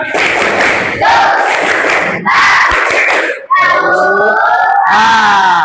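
A class of young schoolchildren chants a clapping cheer loudly in short rhythmic bursts, with thuds of clapping between the shouted phrases.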